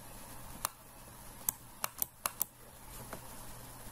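About seven sharp, separate clicks of keys on a computer keyboard during AutoCAD work, irregularly spaced over a quiet, faintly humming room.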